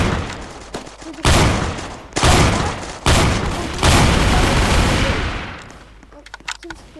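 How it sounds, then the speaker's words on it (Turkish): Shotgun blasts from the Roblox shooter Strucid boom in loud bursts, four heavy blasts with short gaps followed by faint scattered shots, while a player talks intermittently. "kim sıkıyor lan bana?"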